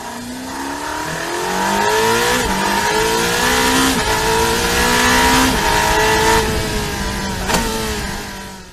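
Ferrari 849 Testarossa plug-in hybrid supercar with a 4.0-liter twin-turbo V8 revving loud and close, repeated rising pitch sweeps as it climbs through gears, with brief shift breaks between pulls.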